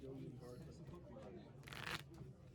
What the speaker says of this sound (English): My shuffling is so ass.